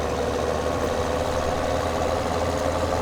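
A Fendt tractor engine idles in Farming Simulator 17, a steady, loud, even diesel-like drone with a low rumble that holds unchanged throughout, no voices.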